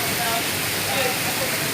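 Heavy rain pours steadily during overnight work, a dense, even hiss of water filling the scene throughout with no breaks.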